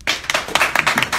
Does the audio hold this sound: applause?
yes